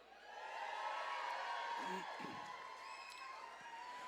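A tent crowd at a shellfish festival cheers for oyster shucker Dean, a broad, distant roar of whoops and applause that holds steady throughout under a loud hissing public-address tone.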